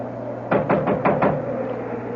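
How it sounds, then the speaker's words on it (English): Knocking on a wooden door as an old radio mystery drama effect: five sharp raps in two quick groups of three and two, close and fairly loud over a faint hum, with no talking. "I'll knock."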